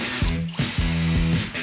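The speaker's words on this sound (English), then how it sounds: "It's a lot of drilling and screwing, but the bed begins to come together" Power drill whirring and ratcheting through several short bursts while screws drive into wooden mattress supports for a canopy bed, close and fairly loud, with brief pauses between runs.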